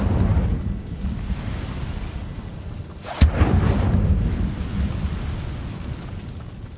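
A roaring, rumbling burst of fire from the Incendio spell in the Hogwarts Legacy video game, opening with a sharp crack and then a sustained crackling whoosh that trails off, heard alone.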